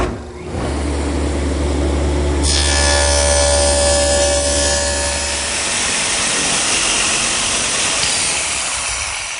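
A table saw cuts a dado into a cabinet side panel for a bottom shelf, a loud steady whine that starts with the motor, brightens and rises in pitch as the blade bites, then holds a continuous buzzing drone before winding down.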